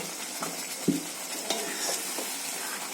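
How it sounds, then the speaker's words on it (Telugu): Gongura chicken stirred in a pan with the lid just lifted, a spoon scraping and scooping in a few distinct strokes over a steady sizzle of frying, close and fairly quiet with no talk. "ఒకసారి మూత తీసి కలుపుకుందాం."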